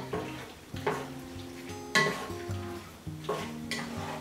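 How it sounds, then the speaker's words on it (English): Meat returned to the pot for Cajun brown jambalaya is stirred, with a few distinct scraping clanks of spoon against pot over a soft sizzle, close and alone. "give that meat a good stir."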